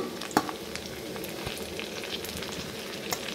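Garlic added to a pan of reddened, browning ingredients fries with a continuous gentle sizzle, a single sharp clack near the start and occasional light scrapes, no voices.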